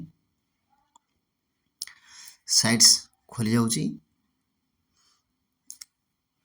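A computer mouse clicks while someone navigates a website portal. A person speaks briefly, then a couple of quick, faint clicks follow near the end in otherwise quiet surroundings.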